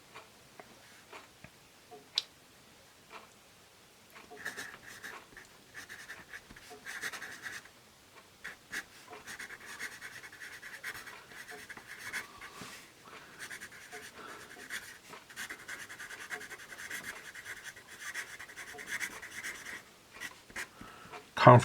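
A Viarco 1951 Super pencil writing on paper: soft, close scratching strokes in irregular bursts, quiet at first and becoming steadier and denser, with occasional taps.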